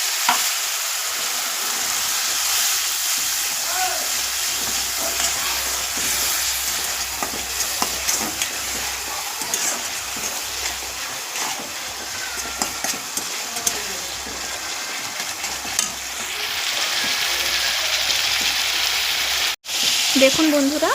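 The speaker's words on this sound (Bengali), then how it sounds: "যতক্ষণ না তেল ধরে ততক্ষণ কষে নেব।" Spice paste sizzles steadily in hot oil as it is sautéed for a fish curry, with the steady frying hiss and scraping stirs carrying close and loud throughout.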